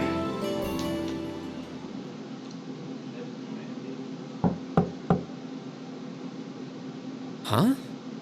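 Three sharp knocks on a door in the video game Trails of Cold Steel, evenly spaced and close, standing out over a steady low background hum, with a brief rising blip after them.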